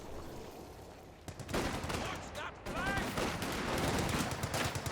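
Rifle and machine gun fire from a Company of Heroes 2 match, with M1919 machine guns and mortar action: dense, continuous bursts of gunfire throughout, with rapid cracking shots under a steady roar of battle.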